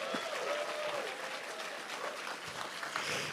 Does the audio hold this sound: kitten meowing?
no